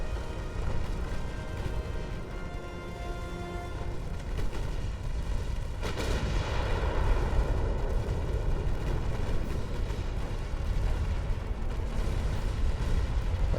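Torpedoes strike a warship in the naval game Ultimate Admiral: Dreadnoughts, set with 1890-era hulls, producing a long, deep rumbling roar of explosions. A sharper blast comes partway through, then a sustained heavy boom rolls on without speech.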